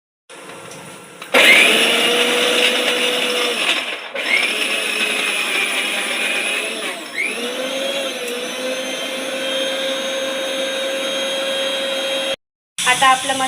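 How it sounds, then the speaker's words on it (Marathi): A mixer grinder whirs loudly, grinding cashews and masala for a spicy mutton curry: a steady high motor whine in several bursts, briefly stopping and restarting, pitch shifting slightly as the load changes, with no one talking. "आता आपण याला ग्राइंड करून घेऊ।"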